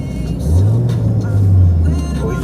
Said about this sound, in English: Go on, give it a little rev now.